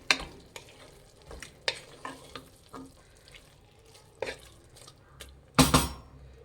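Curd being mixed into mushroom biryani masala in a pan, with a soft sizzle under irregular spoon scrapes and clinks, ending in a louder clatter of utensil against the pot.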